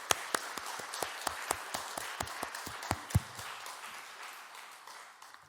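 A church congregation claps during a Sunday worship service, with sharp, separate handclaps in an uneven rhythm that thin out and fade after a few seconds. No voices are heard.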